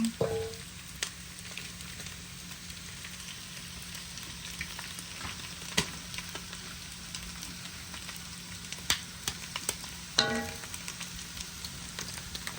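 Ginger paste and onions fry in a pan for chicken kothu parotta, a steady soft sizzle throughout with occasional light clinks and scrapes of stirring, close and fairly quiet.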